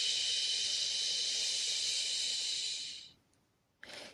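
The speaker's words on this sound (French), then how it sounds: "Et longue expire." A long, slow, airy exhale during a guided breathing exercise, a steady close hiss of breath lasting about three seconds before fading, a brief pause, then a soft start of another breath.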